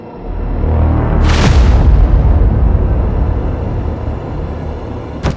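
.45 ACP contract-ammo pistol fired at a bulletproof hoodie, a single loud booming shot with a long rolling outdoor echo that slowly fades, followed by a faint click at the end.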